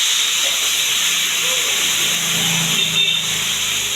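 A spice paste fries in a pan for a soybean and potato curry, giving a loud, steady sizzling hiss that holds evenly without a break.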